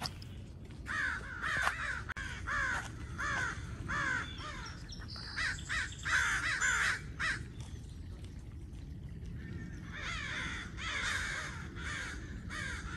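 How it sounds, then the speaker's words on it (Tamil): Several crows caw repeatedly in a rhythmic series of harsh calls, fairly close, over a constant low rumble of wind or distant noise, at a red rock canyon trail. "இவ்வளோ காக்கா கத்திக்கிட்டு இருக்கு. காக்கா சத்தம் கேட்கவே நல்லா இருந்துச்சு."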